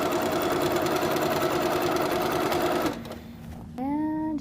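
A sewing machine runs fast and steadily while stitching quilt binding, whirring loudly and close, then slows briefly before a voice begins speaking over the mechanism.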